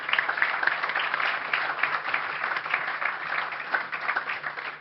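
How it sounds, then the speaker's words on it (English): A studio audience claps steadily to welcome former Formula One driver Derek Warwick, a sustained, moderately loud round of applause with no break. "Would you keep that applause going"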